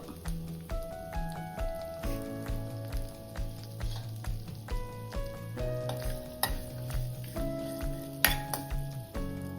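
Steady sizzling of curry leaves dropped into hot oil, with repeated stirring scrapes and light pan clatter, close and continuous.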